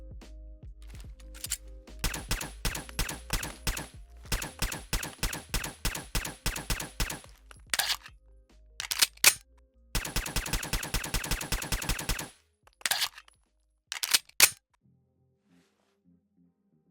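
A modded weapon firing in Fallout 4: long runs of rapid, evenly spaced automatic shots, sharp and close, broken by short pauses and a few separate single shots, against near silence.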